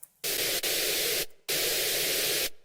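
Two long bursts of steady hissing white noise, flat and synthetic, separated by a short silent gap, with a brief click in the first burst.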